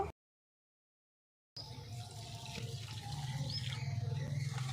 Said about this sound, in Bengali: এই জল দিয়ে বেশ সুন্দর করে একটা থকথকে ব্যাটার তৈরি করে নেব অল্প অল্প জল দেব